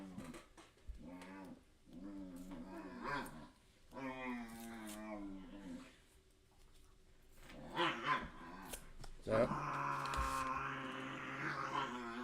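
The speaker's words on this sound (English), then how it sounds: "that's my dogs in the background" Pet dogs in the background bark, growl and whimper in bursts across the whole stretch, some sounds drawn out and strained, with a louder eruption near the end, moderately close with no talk over them.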